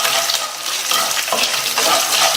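Urad dal, dried red chillies and garlic cloves frying and being stirred in a pan, a steady close sizzle with scraping stirs and no talk.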